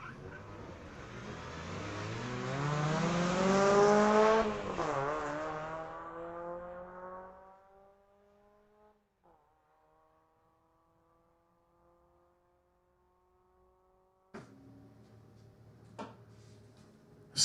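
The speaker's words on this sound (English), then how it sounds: "Zach Beveridge out of Maple Ridge is 92 Mazda Miata" A 1992 Mazda Miata launches in a street-legal drag race at Mission Raceway, its engine revving loud and rising through the gears for several seconds before fading into the distance, followed by a few sharp bangs near the end.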